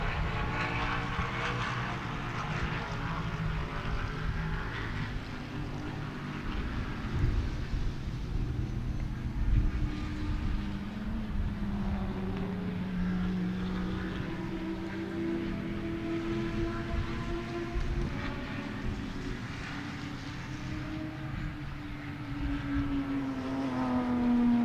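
Race cars at Sebring drone past in the distance, a steady, faint engine whine rising and falling in pitch as they move around the circuit over a constant background hum.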